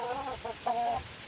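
A domestic hen gives a few short, close clucks in quick succession, ending in a slightly longer drawn-out cluck, soft against a quiet background with no talk.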